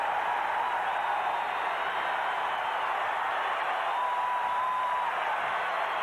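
Arena crowd at a 1992 Olympic qualifying basketball game between the USA and Cuba roars after a Drexler block, a steady, loud wash of cheering and applause sustained throughout.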